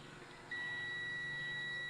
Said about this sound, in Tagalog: May buzzer siya, ibig sabihin may continuity.